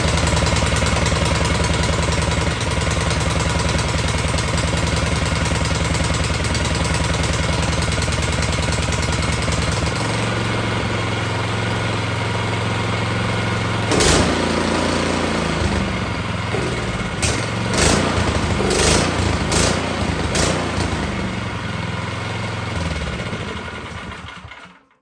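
A Craftsman snowblower engine, just primed and choked, runs at a loud steady idle with a low rumble, then shifts pitch and stutters with sharp clattering bursts before cutting out at the end.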